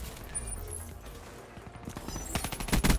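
In Black Ops 3, akimbo MR6 pistols with rapid fire crack out close, fast bursts of shots over background game noise, growing denser and louder toward the end.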